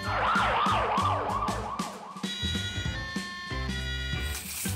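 An ambulance siren wails in rising and falling sweeps for a couple of seconds, then gives way to a steady electronic tone with clanking noise, loud and close.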